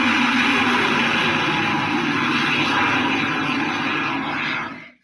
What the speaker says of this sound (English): This is a recording of a space shuttle.